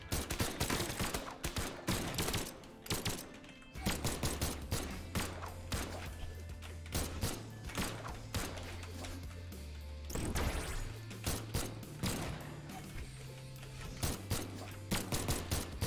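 Blaster weapons fire in the Brawlhalla fighting game, rapid, dense bursts of sharp shots and impacts over thumping game music, continuous and busy throughout.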